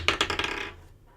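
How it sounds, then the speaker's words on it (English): A small die rolls and clatters across a resonant wooden table at a tabletop game session, with a quick series of rattling bounces that settle and fade out within about a second. "It's actually a little dice on a loud wooden table"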